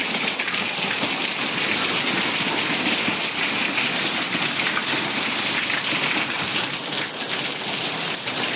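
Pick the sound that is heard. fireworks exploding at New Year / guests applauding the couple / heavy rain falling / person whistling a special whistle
heavy rain falling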